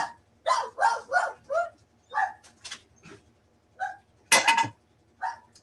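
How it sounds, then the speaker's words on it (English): A pet dog barks at a pool service worker arriving at the house, firing off a run of sharp, loud, close barks in uneven bursts, some doubled and some spaced apart. "That's Nani's pool guy bark"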